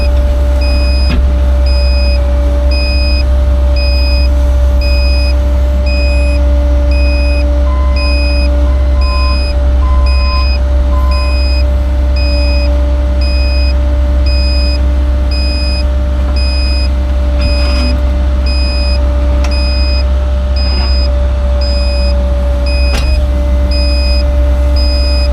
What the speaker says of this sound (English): Boy, is that beeping annoying.